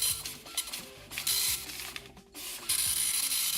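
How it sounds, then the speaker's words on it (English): Dot matrix printer printing in rapid buzzing bursts with short pauses between lines, close and fairly loud, with the rasping head chatter alone and no talk. "That's a dot matrix printer sound."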